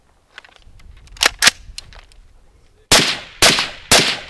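Rost Martin pistol fired during a low-round-count shooting range drill: two sharp shots, a pause, then three loud evenly spaced shots close by.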